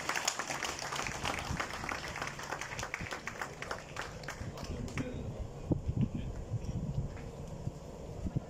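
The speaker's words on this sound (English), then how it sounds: "Un grand applaudissement, mesdames et messieurs." Crowd applause at the inauguration of reverse vending machines at Mauritius Glass Gallery, a dense patter of many hands clapping steadily for several seconds, thinning slightly toward the end amid a murmur of voices.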